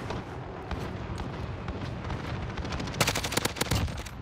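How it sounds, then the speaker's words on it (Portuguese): Nearby enemy gunfire in Call of Duty Warzone on the Verdansk map, a steady stream of close automatic shots and impacts under the game's soundscape, rising into a sharper, louder burst toward the end. "tem um cara bem no lado aqui atirando"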